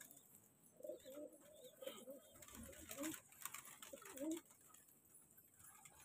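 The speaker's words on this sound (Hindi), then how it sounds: "ये बाहर आ रहे हैं कबूतर दाना खाने के लिए" Pigeons of mixed colour varieties coo repeatedly as they come out to eat grain at a loft, the soft cooing close and continuous in several bursts over a steady background hiss.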